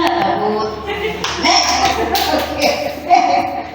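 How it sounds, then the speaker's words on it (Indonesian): A class of teachers or students in an Indonesian classroom claps for a classmate during a lesson, giving short uneven bursts of nearby hand clapping mixed with chatter and light taps. "Tepuk tangan dong untuk Lena."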